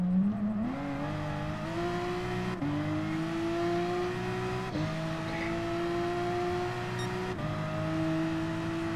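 A race car engine in Gran Turismo Sport drones loudly and continuously, pitch climbing through each gear before dropping at three quick shifts, then rising again as the car keeps accelerating.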